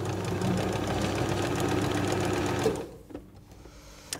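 A sewing machine runs a straight stitch through fabric with a fast, even mechanical chatter nearby, then stops abruptly, leaving near quiet with a few faint clicks.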